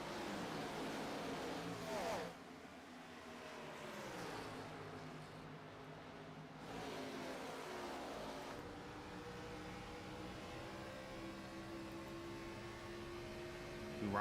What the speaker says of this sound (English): these cars sound so genuine then.